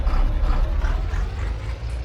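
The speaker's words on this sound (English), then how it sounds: "Beautiful, beautiful tractor. Oh, sounds amazing." A steady low rumbling John Deere tractor engine idling close by in Farming Simulator 19, continuous and heavy with mechanical clatter, no voices.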